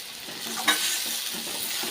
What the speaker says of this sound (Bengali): এখানে আমি 500 পটল নিয়েছি, একটা আলু দিয়েছি, দিয়ে আমি এই ভাজাটা করছি।